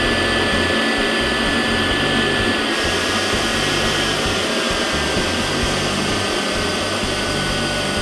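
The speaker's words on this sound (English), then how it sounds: "the fault will appear, indicating that the deadhead condition is in existence, and will shut the pump down" An ITT PumpSmart PS220 pump runs in a deadhead condition, giving a loud, steady mechanical drone with a whining hum that holds unchanged throughout.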